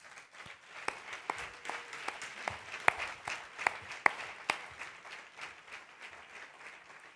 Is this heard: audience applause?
yes